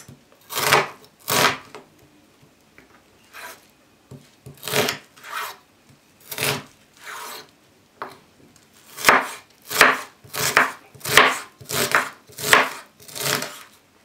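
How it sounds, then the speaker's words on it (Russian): A knife chops an onion on a board in repeated crisp strokes, some spaced and some in quick runs, close and clear with no talking. "Займемся сразу нарезкой лука."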